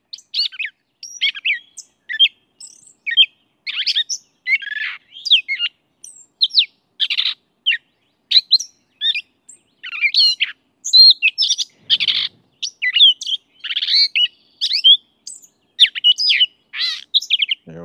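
A gray catbird sings a long, jumbled series of varied chirps, squeaky whistles and warbled phrases with brief pauses, clear and fairly close with no other sounds.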